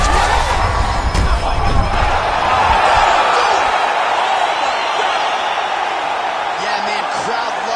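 Arena crowd roaring and cheering at the finish of a UFC fight after a McGregor uppercut, a loud sustained wash of voices with a commentator talking over it.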